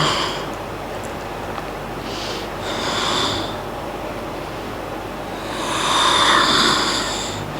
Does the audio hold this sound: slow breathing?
yes